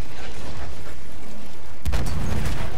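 An explosion in the World War I shooter Battlefield 1 bursts in loud and sudden near the end, following a stretch of rumbling battle noise and distant gunfire.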